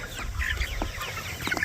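Broiler chickens on a hot, humid Kansas summer farm cluck in quick, overlapping bursts, several birds close by and fairly loud, with no talking.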